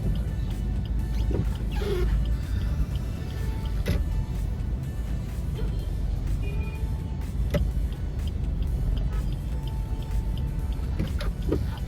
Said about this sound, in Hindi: आप देखो ट्रैफिक कितना है, लोग घुस जाते हैं